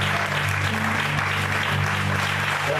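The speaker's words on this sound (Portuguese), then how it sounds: "Vamos aplaudir o Senhor com muita alegria." A church congregation claps steadily and enthusiastically for a few seconds, a dense wash of applause with faint voices mixed in.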